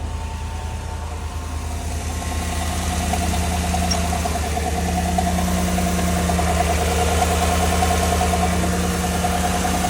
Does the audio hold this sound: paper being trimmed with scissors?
no